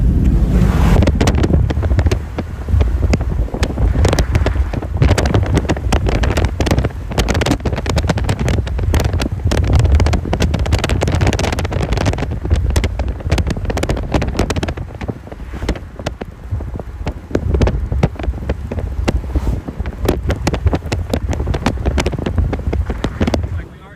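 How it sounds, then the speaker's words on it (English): Strong gusty wind during a storm in Southwest Texas buffets the microphone with a loud, continuous rumbling roar broken by rapid flutters and bursts of turbulence that ease slightly toward the end. "It does look like we actually are getting some wind."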